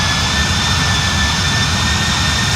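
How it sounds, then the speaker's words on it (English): Airliner IAE jet engines in a flight simulator give off a loud, steady roar with a deep rumble and thin, constant high-pitched whine tones, unchanging and without speech. "this aircraft has the IAE engines instead of the CFM engines"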